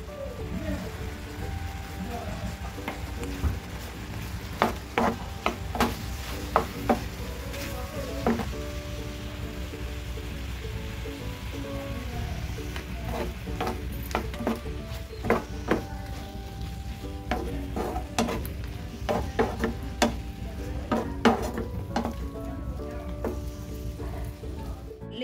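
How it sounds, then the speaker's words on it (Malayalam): A coconut and jaggery mixture is stirred in a hot pan, with steady sizzling and frying under repeated clinks and scrapes of a spoon against the metal, continuing evenly throughout. "ഇളക്കി ഇതൊന്ന് വറ്റിച്ചെടുക്കാമേ."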